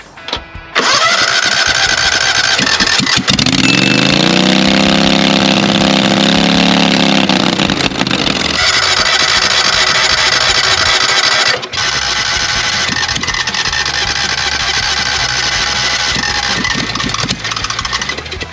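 Racing lawn mower engine, newly swapped in, cranks, catches and runs at a loud steady idle with shifts in pitch and a brief dip partway through, close up with no talking.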